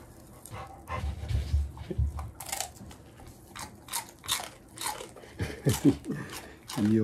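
A dog chews and crunches meat up close, with wet biting, smacking and panting in short irregular bursts.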